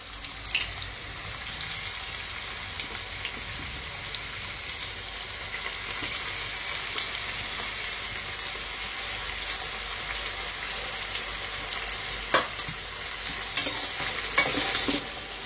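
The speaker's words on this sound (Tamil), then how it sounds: "வெங்காயம் வதங்கும் போதே நம்ம என்ன பண்ணுவோம்னாக்கா இந்த எறாவை போட்டு வதக்கிடுவோம்." Prawns sautéing with onions in a pan for a prawn gravy, a steady bright sizzle running throughout with occasional louder scrapes and stirs near the end, and no one talking.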